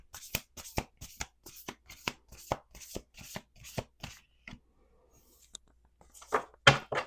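A deck of tarot or oracle cards is riffled and shuffled by hand in a quiet room: about a dozen crisp, evenly spaced bursts, then a short pause and a final shuffle, close and clear.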